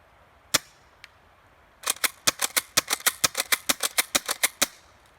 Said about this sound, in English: let's start with the Airsoft Shotgun